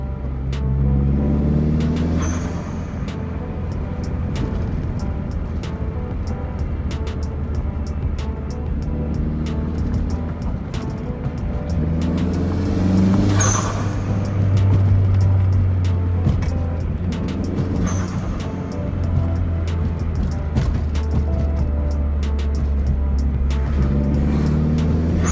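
A Lexus IS300 with a swapped 1JZ engine starting up and settling into a loud, steady idle with a deep rumble and occasional revs, close by.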